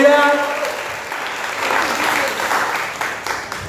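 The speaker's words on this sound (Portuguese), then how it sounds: "Você pode aplaudir Ele por isso?" Church congregation applauding during a sermon; a voice trails off at the start, then a broad swell of many hands clapping rises and holds at moderate loudness through the rest.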